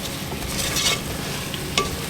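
Salted pig tail stew being stirred after onion salt and garlic salt go in, a close, continuous bubbling sizzle broken by a couple of brief spoon scrapes, with no voices.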